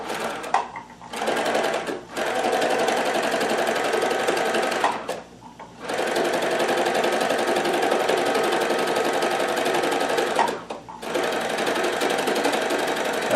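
A needle felting machine runs steadily with a fast, buzzing mechanical hum, stopping briefly three times and then starting again. Nobody speaks.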